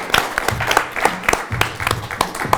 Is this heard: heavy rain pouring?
no